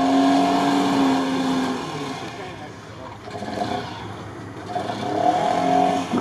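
An off-road rally vehicle at the RFC Ukraine 2020 event near Tolokun revs loudly and close, its engine rising and falling under people talking.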